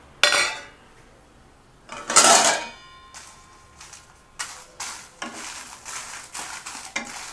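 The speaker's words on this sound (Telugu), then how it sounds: "ఈ ఆయిల్ కొంచెం హీట్ ఎక్కనిచ్చి ఈ ఎండుమిర్చిని వేయించుకోవాలి." Dried red chillies frying in hot oil while a utensil scrapes and clinks against the pan, heard as bursts of sizzle and stirring over a faint steady fry.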